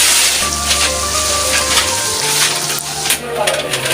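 Onion fritter batter (peyaju) and other snacks frying in oil for a Ramadan iftar, giving a close, steady sizzle that runs throughout with a low hum underneath.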